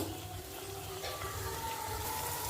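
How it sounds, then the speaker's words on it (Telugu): Chana dal sizzling in hot oil in a pan with tomato pieces, a steady soft frying hiss with faint stirring, close and quiet, no talking. "ఇవి కూడా బాగా నూనెలో మగ్గాలి ఓకేనా బాగా మగ్గనండి"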